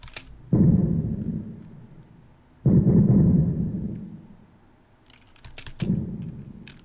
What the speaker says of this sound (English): So then I've got some more muffled explosions kind of going on in the background here.